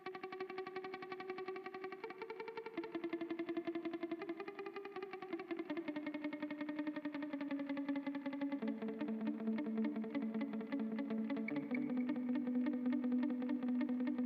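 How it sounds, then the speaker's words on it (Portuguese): Guitar played through a delay effect on a budget pedalboard preset with a dotted-note delay, sustained notes repeating and smearing into one another as they slowly shift pitch, clean and moderately quiet, with no voices. "esse é o som do meu delay nesse preset específico"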